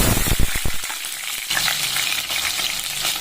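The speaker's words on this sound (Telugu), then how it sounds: "తెల్లగడ్డ బాగా వేగాలి." Garlic fries in hot oil with mustard seeds, curry leaves and small onions for sambar: a burst of rapid crackling pops at first, then a dense, loud, even sizzle close by, no talk.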